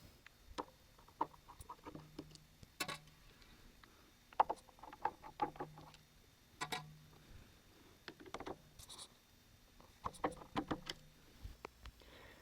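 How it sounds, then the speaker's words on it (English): Screws being removed from a Ducky ONE keyboard case, with scattered small clicks, ticks and scraping taps of a screwdriver working at close range, in irregular bursts separated by short quiet gaps. "it's time to remove the 3 screws."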